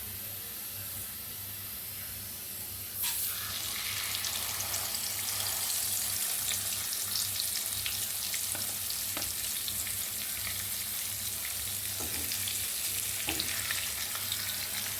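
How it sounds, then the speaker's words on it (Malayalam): Sardines drop into hot oil in a pan and set off a sudden louder hiss, which settles into a dense, steady crackling sizzle heard up close with no speech. "നമുക്ക് ചാള ഓരോന്നും ഇട്ട് വറുത്തെടുക്കാം"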